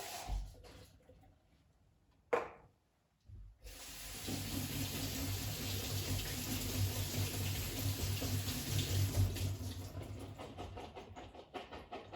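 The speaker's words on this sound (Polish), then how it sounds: "naszą fasolę koniecznie musimy opłukać pod wodą" Canned beans rinsed under a running kitchen tap: after a can clicks and a lid clatters, a steady, close rush of water runs for several seconds before easing off.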